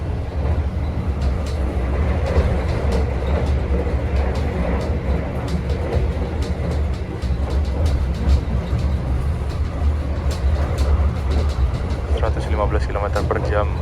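Gajayana Eksekutif train running fast at night on the Jogja–Solo line, heard from inside as a steady loud rumble with repeated clickety-clack of wheels over rail joints, accompanied by occasional talking.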